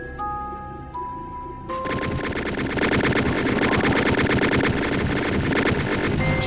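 Rapid automatic gunfire from the video game Doom: a loud, dense, continuous stream of shots that starts after a few brief tonal game beeps and keeps pounding steadily to the end.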